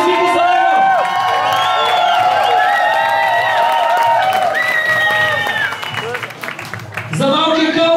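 Audience at a breakdancing power moves contest shouting, whooping and cheering loudly throughout, with applause and a brief dip in the noise before the roar swells again near the end.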